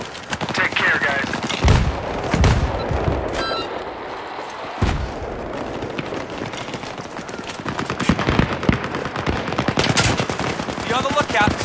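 Enemy machine gun fire rattles in Battlefield 3 on the Noshahr Canals map, rapid bursts of automatic shots near and far, some loud single cracks, with voices talking in between.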